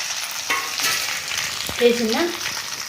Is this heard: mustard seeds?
yes